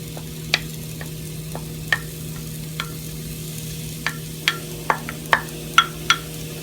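Tofu pieces stir-fry in a pan, a low, soft sizzle beneath a string of sharp spatula clicks and taps that come irregularly and grow more frequent toward the end.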